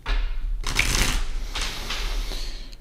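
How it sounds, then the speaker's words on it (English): A deck of tarot cards is shuffled up close, with crisp riffling bursts and softer fluttering slides over about three seconds, no talking. "All right, last shuffle for Taurus."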